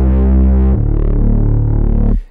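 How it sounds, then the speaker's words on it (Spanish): A synth bass made in FL Studio plays alone: a loud, thick, buzzing sustained tone that shifts to a new pitch partway through and then cuts off sharply. "El bajo en cuestión, el primero suena así."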